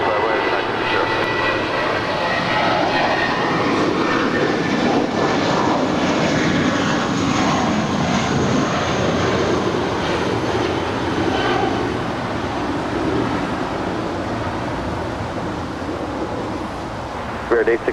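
Delta Airlines airliner in old SkyTeam livery taking off at LAX, a loud continuous jet engine roar that holds steady throughout, with faint voices in the background.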